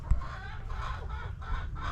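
Chickens and roosters clucking softly in a backyard coop, a sequence of low murmuring clucks over about two seconds, close by, with a brief sharper knock near the start.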